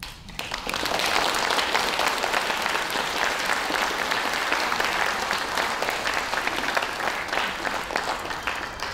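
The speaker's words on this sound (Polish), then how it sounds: "Bardzo, bardzo wielkie brawa należą się także Państwu." A large theatre audience claps steadily for several seconds at a live stage show with music, a dense, even wash of applause that starts abruptly and holds without fading.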